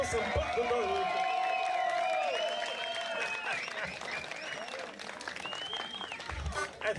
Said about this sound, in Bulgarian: Дайте малко ръце, дайте малко ръце.